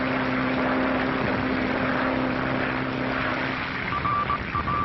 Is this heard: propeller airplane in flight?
yes